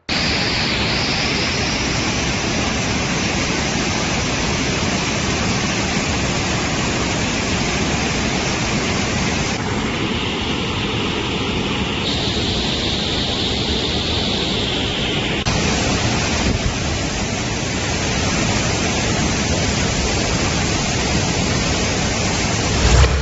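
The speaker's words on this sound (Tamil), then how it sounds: "ஒகேனக்கல் காவிரி ஆற்றில் உள்ள ஐந்தருவி சீனி அருவி மெயின் அருவியில் தண்ணீர் ஆர்ப்பரித்து கொட்டுகிறது" Water gushing and roaring down the Hogenakkal waterfalls on the Kaveri river, a loud, dense, continuous rush heard close up for the whole stretch, with no voices.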